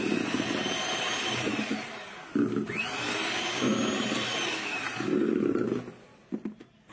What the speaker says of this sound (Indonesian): Kemudian di mixer kembali dengan kecepatan paling rendah sampai tercampur rata.